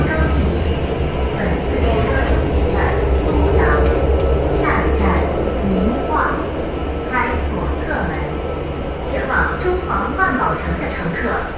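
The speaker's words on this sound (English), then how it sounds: "Now we are going to the far end of this subway." Beijing subway train running through an underground tunnel, a steady loud rumble and rolling drone throughout with faint voices murmuring beneath it.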